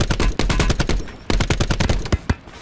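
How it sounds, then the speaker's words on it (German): Loud, rapid automatic gunfire from Call of Duty Black Ops 4 Blackout battle royale, with dense bursts of shots cracking in quick succession and brief pauses between bursts. "Ich höre es nur schießen gerade."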